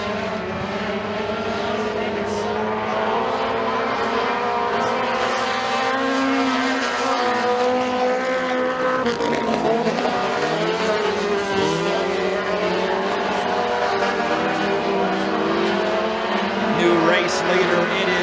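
Mini stock race cars roar through the turns and down the back straightaway at McKean County Raceway during a heat race, a continuous loud engine drone with rising and falling revs as cars pass, under steady commentary.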